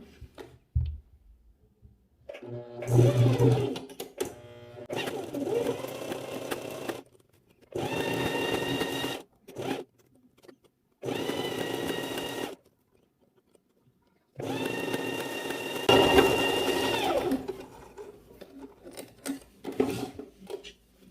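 Sewing machine stitching bikini bottom fabric, running in several separate bursts of a few seconds each with short pauses and quiet handling sounds between them.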